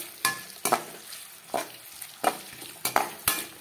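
Chopped shallots and garlic fry in oil for a kurma, with a soft steady sizzle broken by about eight sharp scraping stirs of a utensil against the pan.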